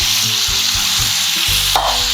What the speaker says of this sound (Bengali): ঘি দিলাম, পেঁয়াজটা দিয়ে দিচ্ছি।